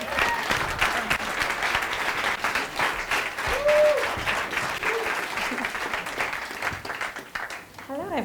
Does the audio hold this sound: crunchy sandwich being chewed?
no